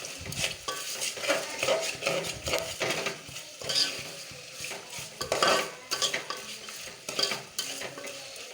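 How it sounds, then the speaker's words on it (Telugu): Gongura paste and tomatoes frying in a pan, with steady scraping and stirring of a utensil against the metal and a soft sizzle underneath, close and continuous without speech. "కొంచెం వేగాలి టమాటాలు. మనం ఇందాక పేస్ట్ చేసుకున్న గోంగూరను దీంట్లో వేసాను."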